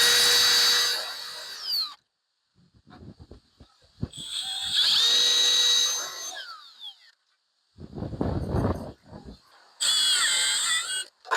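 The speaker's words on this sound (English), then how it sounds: "I'm now going to pilot drill the 2 holes for the lock" A power drill pilot-drills two holes for a lock on an aluminium gate, running in loud whining bursts that rise in pitch, separated by quiet gaps and some handling clatter.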